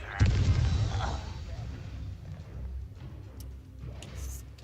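A Confringo explosion spell bursts with a sharp, close boom at the start of a Hogwarts Legacy battle, then rumbling low impacts and scattered pops trail off.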